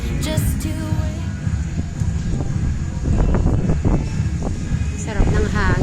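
Gusty wind blows across an outdoor spot where laundry hangs to dry, rumbling against the microphone in uneven surges, with voices and faint background sounds mixed in.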